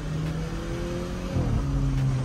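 A stage 4 tuned Volkswagen Polo GTI engine revs steadily at high rpm with a subtle, fairly quiet exhaust tone. A pitch shift occurs midway, and no voices are heard.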